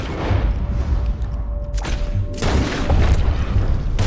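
Gunshots in Red Dead Redemption 2 ring out as loud, booming blasts with long rumbling tails over dense game ambience, the heaviest burst landing near the end.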